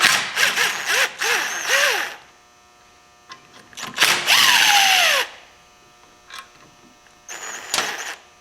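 Power tool spinning out 10 mm bolts on the EGR valve of a 1998 Chevy S10 4.3 Vortec V6, several short whirring bursts with rising and falling pitch separated by pauses, close and fairly loud.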